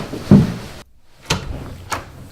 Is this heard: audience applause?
no